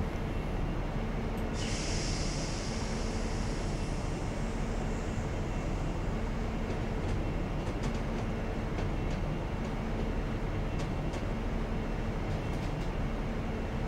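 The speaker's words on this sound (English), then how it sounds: "I do miss the sound of jointed track rather than welded track." HST train in Train Simulator 2021 runs along welded track on the Western Mainlines near Bodmin, a steady loud rumbling drone with a brief hiss early on and faint intermittent clicks, no talking.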